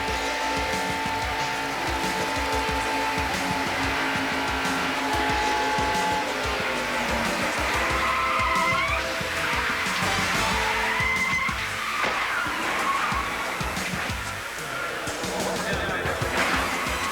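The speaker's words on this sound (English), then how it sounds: "Our ESPN in-car cameras give you a feel of what it's like to crash at over 190 miles an hour" NASCAR stock car crashing at over 190 mph, captured from an in-car camera: a constant loud engine roar with grinding, scraping impacts and a rising tire squeal near the middle, bursts of rattling debris toward the end.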